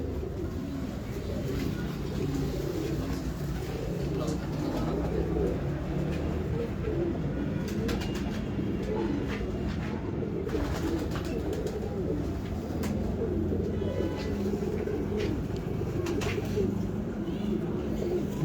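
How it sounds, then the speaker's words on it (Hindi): Pigeons cooing steadily, soft repeated low coos close by over constant background noise, with occasional clicks and light bird movement throughout. "गर्मियों के शहनशाह कबूतर, बहुत अलग कबूतर माशाल्लाह।"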